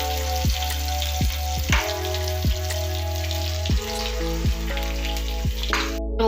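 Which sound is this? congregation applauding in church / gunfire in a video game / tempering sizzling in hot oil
tempering sizzling in hot oil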